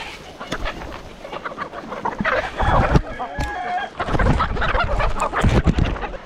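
A flock of native country chickens on a farm of about 2,500 birds, a loud, close chorus of overlapping clucks and squawks with occasional crowing, continuous and busy without speech.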